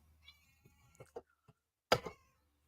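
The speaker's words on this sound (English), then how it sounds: "I heard cat" A house cat gives a few short, faint meows indoors, with one louder, clearer meow near the end amid quiet room sounds.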